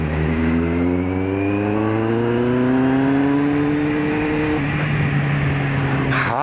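A Kawasaki Z750 motorcycle engine at night, its loud, steady multi-cylinder drone rising gradually in pitch over several seconds as it accelerates, close by and alone, with a brief shift in tone near the end.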